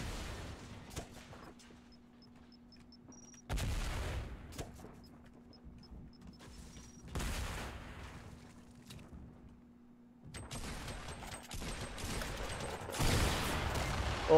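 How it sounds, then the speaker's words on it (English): Gunfire and explosions from the video game Fortnite come in several loud bursts of blasts and rapid shots, separated by quieter stretches with faint game tones. "There were so many explosions."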